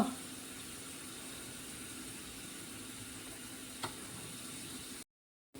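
A steady, faint hiss of tempering sizzling in hot oil continues throughout, with one brief clink midway before the sound cuts out.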